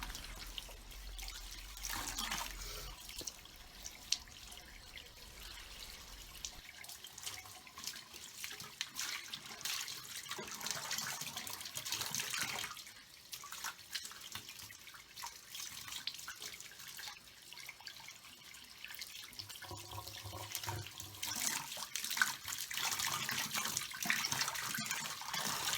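Running tap water pours steadily over an old wig being rinsed and detangled at a sink, a continuous close splashing hiss that shifts in tone as the hair moves under the stream.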